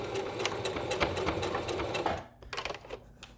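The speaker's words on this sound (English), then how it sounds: "We're gonna back stitch at the edge of the fabric." A sewing machine stitches fabric for a child's face mask, running in a fast steady rattle up close, pausing briefly, then resuming with short back-stitch bursts.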